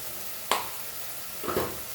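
Homemade cumin powder hits hot oil in a pan while Goan-style masoor dal is cooked, giving two short sizzling, stirring bursts over a low kitchen hiss.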